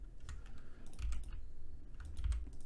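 Typing on a computer keyboard with arrow-key presses, a quiet close series of light clicks arriving in small irregular bursts with brief gaps between them.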